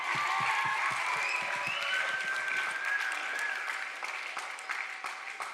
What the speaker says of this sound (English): Let's have a big round of applause for Dr. George.